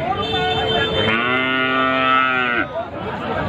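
Calves at a cattle market call out in one long, drawn-out moo that lasts over a second, loud and close, with market chatter and crowd noise running underneath throughout.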